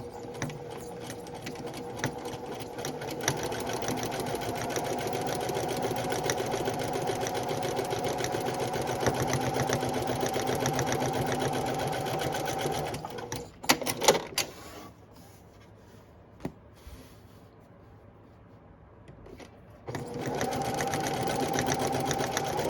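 A sewing machine stitches a half-inch seam down the sides of fabric for a reversible, washable pocket and key fob lanyard, whirring loud and steady for about thirteen seconds, pausing with a few clicks and handling noises, then resuming.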